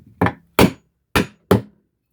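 Four sharp, close hammer blows knock a nail back out through wood while a hand-tool tote is assembled, with brief, uneven pauses between strikes.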